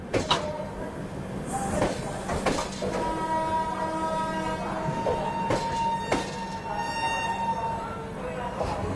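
Superfast express train to Hubli rolling along rails nearby, a steady clattering rumble with sharp repeated knocks and squeals from the wheels, while a voice talks over it.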